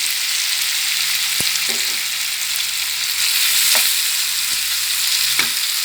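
Pork belly and long beans stir-fry with red curry paste in a hot pan, making a loud continuous sizzle close at hand, with a few sharp clicks and scrapes of the spatula and no speech.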